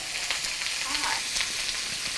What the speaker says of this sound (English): Nice and sizzling here.